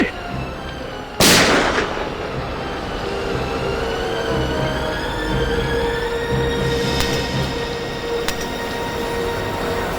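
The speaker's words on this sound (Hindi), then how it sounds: "अभिजीत, गोली तो अब भी चलेगी एसीपी।" A single sharp gunshot cracks out near the start of a TV crime drama scene, then a low rumbling hum carries on with a few faint clicks.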